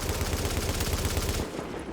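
Sniper gunfire in the video game The Division: a dense, rapid run of loud shots for about a second and a half, then quieter background noise.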